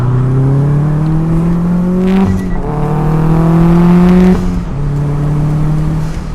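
A manual car under hard acceleration through the gears, loud and close from the cabin, engine pitch climbing steadily then dropping at two shifts before rising again, with no voices.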